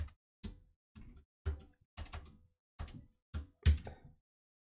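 Bursts of typing on a computer keyboard, short clusters of clicky key taps separated by brief pauses, close and fairly quiet with no talking.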